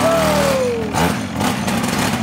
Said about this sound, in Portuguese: Liga ali a minimoto, Eduardo.